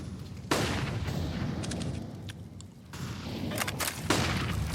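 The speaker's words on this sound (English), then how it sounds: "The bullets rattle through that smoke." Gunfire in a Counter-Strike: Global Offensive match on the Inferno map, sharp cracks and rattling bursts of shots with booming reports and echoing tails, loud and overlapping, no speech heard.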